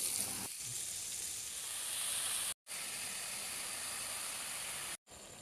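Potatoes and radish sizzle in a little oil in a pan, a steady close hiss of frying that breaks off briefly twice.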